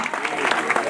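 A church congregation at a family service claps together, a brief, thick burst of applause with crowd voices underneath.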